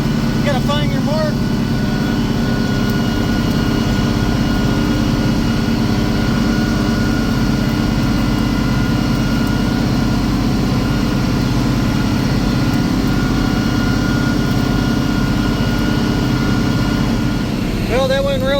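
A big farm tractor engine runs steadily at close range, a loud, continuous low drone with a constant hum throughout, unchanged from start to finish.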